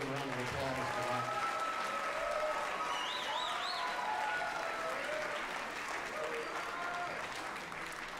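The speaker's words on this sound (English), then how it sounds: "So I think they deserve a round of applause for that." Audience applause for a high school jazz ensemble at a concert, sustained clapping throughout with a voice speaking over it at the start.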